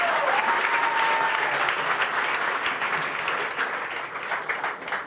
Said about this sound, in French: Give Jesus a hand because you're called to Applaudissez greatness.